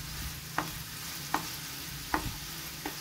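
Black carrot halwa stirred in a pan, a spoon scraping through it in four evenly spaced strokes over a low, steady background hum; close and fairly quiet, with no talking.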